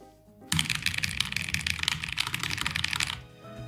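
Rapid, continuous typing on a low-profile mechanical keyboard, dense clicky keystrokes up close for about two and a half seconds, with quiet before and after.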